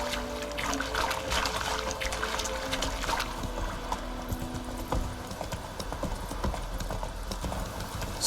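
Roach, Geralt's horse in The Witcher 3 video game, gallops with a fast, continuous clip-clop of hooves, loud and close, over a faint watery background and no talk.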